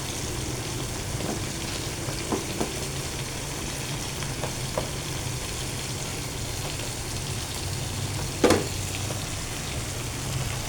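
Ginisang gulay, a vegetable sauté, hisses softly and steadily in a pan for several seconds, with scattered light clicks of stirring and one sharper clatter near the end, and no voices.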